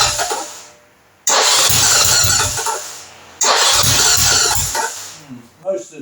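Norton Commando 850 MKIII motorcycle with its electric starter cranking in two long loud bursts, each cut off abruptly, separated by quiet pauses, with a short rattle at the end.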